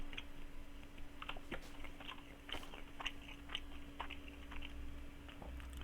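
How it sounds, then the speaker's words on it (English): Someone bites into a sandwich and chews it close to the microphone, a series of soft crunching bites and wet chewing noises spread irregularly over a quiet background with a faint steady hum. "I'm going to take a bite out of my sandwich now"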